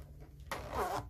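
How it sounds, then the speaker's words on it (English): A zipper on a crossbody bag being sewn is pulled in one quick, soft rasping stroke of about half a second, close but faint over a low, steady background hum. "pull the zipper, and um, go ahead and continue sewing"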